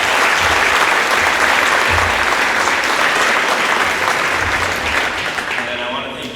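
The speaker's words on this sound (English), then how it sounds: "so give him a round of applause." Loud, sustained crowd applause at a Lincoln High School welcome-home celebration for the 2024 state champion football team, with dense clapping and some crowd noise that fades slightly near the end.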